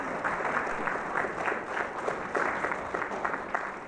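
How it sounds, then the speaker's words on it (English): Sustained audience applause fills a room at an Indigenous education conference as an award recipient is called up, steady and dense clapping from many hands throughout with no talk over it. "Round of applause for Teresa Sanderson"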